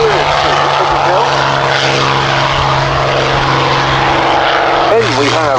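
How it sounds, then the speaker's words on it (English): A North American P-51D Mustang warbird rolling for takeoff at an air show, its propeller engine droning loudly and steadily with a pitch shift near the end, while an announcer talks over it. "The aircraft in our next slot are now already on the roll. First off, we have the North American P-51D Mustang"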